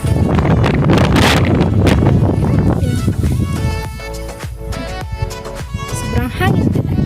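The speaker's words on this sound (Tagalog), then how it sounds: "Sobrang hangin talaga." Loud wind gusts roar against the microphone, easing slightly midway, with a person talking in Tagalog through the blustery noise.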